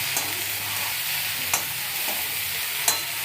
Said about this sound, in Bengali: মাছগুলো দিয়ে দিলাম। এবার ভালো করে মিক্স করে নেব।